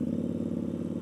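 Triumph Scrambler 1200 XE motorcycle exhaust heard from a helmet mic while riding, a steady, moderately loud low rumble with a fast even pulse.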